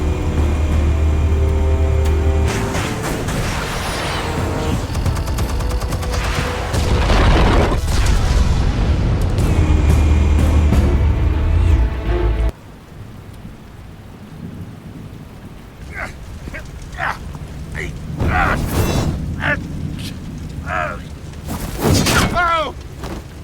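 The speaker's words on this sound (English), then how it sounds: "Explosives armed." Loud booming explosions and rumbling blasts from the Batman: The Telltale Series video game, with a dense roar that drops away into quieter scattered impacts and crackles.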